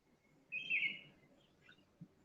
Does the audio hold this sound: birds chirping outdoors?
yes